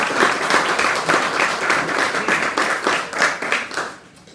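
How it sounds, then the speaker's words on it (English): A temple congregation claps steadily for first-time visitors, a dense, fairly close patter of many hands that holds even for about four seconds and then thins out at the end. "so give them a round of applause"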